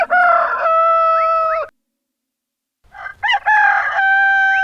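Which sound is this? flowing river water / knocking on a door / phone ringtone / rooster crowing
rooster crowing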